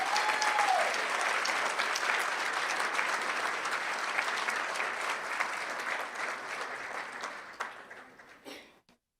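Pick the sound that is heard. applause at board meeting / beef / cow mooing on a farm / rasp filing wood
applause at board meeting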